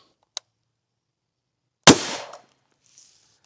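A single sharp, loud report from a PSA Jackal pistol firing Magtech 200 grain subsonic 300 Blackout, with a brief decaying tail, preceded by a small faint click and followed by a soft faint rattle.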